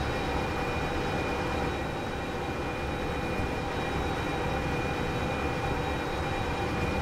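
A DE6 diesel locomotive in the train game Derail Valley hauls its train with a loud, steady engine drone and rumble that continues without a break, and no one speaks.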